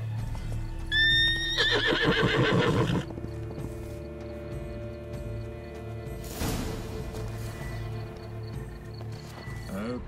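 A horse whinnies loudly in The Witcher 3: Blood and Wine, a high rising neigh near the start followed by clip-clopping hooves, then a steady game backdrop with a brief rustle partway through.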